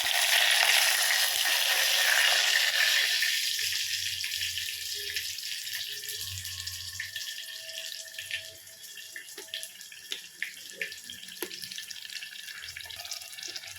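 Mustard seeds, fenugreek and dried and green chillies splutter in hot oil for a coconut milk rasam, a loud hissing sizzle at first that settles into scattered crackles and pops.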